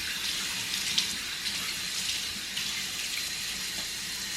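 Water runs steadily from a bathroom tap at a sink while someone wets their face, a constant close hiss and splash with small shifts in the flow and no talking.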